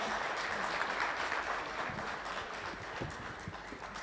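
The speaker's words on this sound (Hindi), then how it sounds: "जोरदार तालियों के साथ एक बार स्वागत करें" An audience at a wealth summit for women and young investors claps steadily, a faint, even wash of applause that continues without a break.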